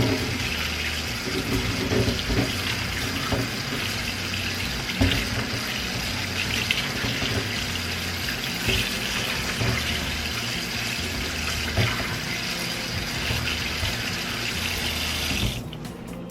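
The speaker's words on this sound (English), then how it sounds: "I'm just going to rinse the hot dogs off" Cold tap water runs steadily into a sink while hot dogs are rinsed under it, giving a continuous, close, broadband splashing rush that holds nearly unchanged throughout and cuts off abruptly at the very end.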